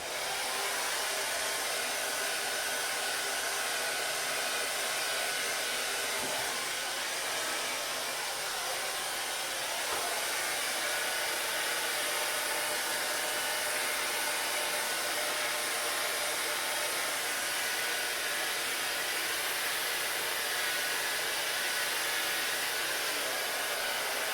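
A hair dryer blows steadily on a low setting while styling a boy's hair, a continuous airy whoosh with a faint motor hum that never lets up.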